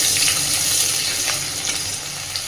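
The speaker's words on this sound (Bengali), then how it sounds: "পেঁয়াজটা আমি বেশ একটু স্বচ্ছ করে ভেজে নিয়েছি" Onions fry in a pan until translucent, giving a dense, even sizzle that stays loud and close throughout with faint crackles and no voices.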